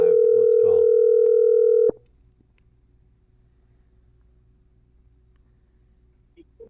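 A telephone dial tone hums loud and steady for about two seconds while a call is placed, then cuts off abruptly, leaving near silence with a faint low hum.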